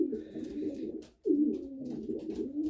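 Pigeons coo softly and close by in low, throaty, rolling calls, two phrases separated by a brief pause, with no talking.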